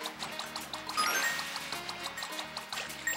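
A water spray in Super Mario Sunshine runs as a steady trickling, splashing stream under tinkling game music with a repeating low bass line, and there is no talk.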